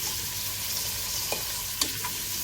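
Vegetable soup ingredients with crushed black pepper are stirred in a pan over a soft continuous sizzle, with a few light scrapes and taps of the spoon against the pan. Quiet and close, with no talking.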